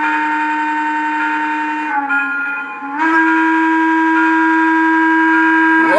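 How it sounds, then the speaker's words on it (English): A Hooter train whistle blows loud and sustained on a model locomotive, a steady tonal blast with a short dip in the middle before resuming at full strength, sounding alone without talk. "And the great Hooter whistle."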